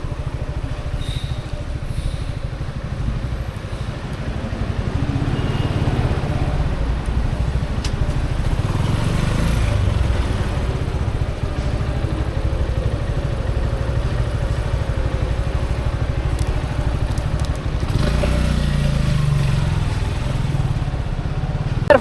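Motorcycle engines idle and rev at the Padma Bridge toll plaza, a steady mid-level engine drone with a few swells as bikes move through, surrounded by crowd and traffic noise.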